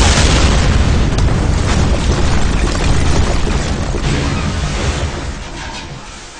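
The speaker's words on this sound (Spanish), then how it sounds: "venga, tirad la bomba" A bomb blast from a Playmobil toy stop-motion battle booms loud and continuous, a dense rumbling roar sustained for several seconds before slowly fading away.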